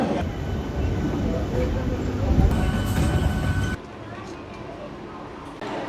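Trains rumble at Howrah railway station, a steady loud rolling drone that drops off abruptly near the end, with people talking over the noise.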